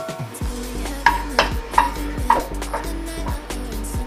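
Cloves, cardamom and cinnamon dropped into hot oil for chicken fry, crackling and hissing up close with a few clinks of a spoon against the pan.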